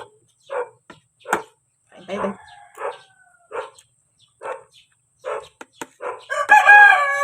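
A dog barks in short, spaced bursts at a distance, a rooster crows loudly near the end, and a person speaks briefly.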